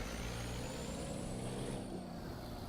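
Modded truck engine in American Truck Simulator, a heavy fully loaded rig rolling fast, giving a low steady engine drone with a high whine on top that fades midway, at moderate level without talk.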